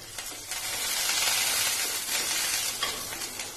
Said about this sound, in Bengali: এর ভেতরে আমি জিরে দিলাম ফোড়ন আর দুটো কাঁচা লঙ্কাকে ফাটিয়ে দিয়ে দিলাম দিয়ে এটা একটু নেড়ে নেব